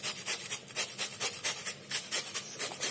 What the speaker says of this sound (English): I am going to scrape this onion to extract juice.